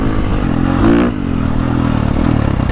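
A 2022.5 KTM 450 Factory Edition motorcycle engine revs while riding, with a loud close surge and a quick rise in pitch before settling back into a steady pulling drone.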